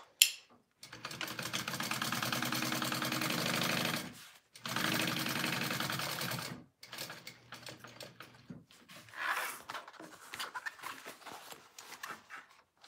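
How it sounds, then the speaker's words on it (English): A sewing machine stitches the sides and top of a harlequin tote bag in two long loud runs of rapid whirring, then shorter bursts trailing off into quieter pauses. "I'm just gonna sew up the sides and the top of this"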